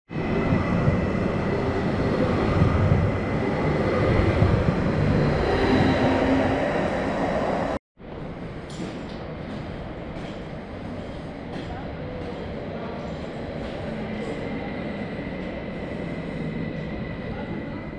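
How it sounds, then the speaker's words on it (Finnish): Train ride in Helsinki: steady rolling rumble and rattling of a passenger train carriage with a hissing broadband roar, a sharp break partway through, then a quieter continuing ride with faint clicks. "Ja nyt lähdetään junalla tästä himaa neljän seinän sisälle takaa"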